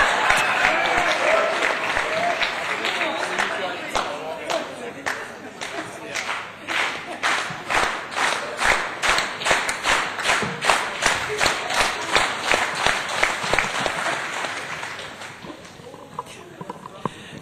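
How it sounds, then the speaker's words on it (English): A spontaneous round of applause breaks out at an economic summit, building into steady rhythmic clapping from a large audience before fading away near the end. "I did not ask them to give him a big round of applause. It just came spontaneously."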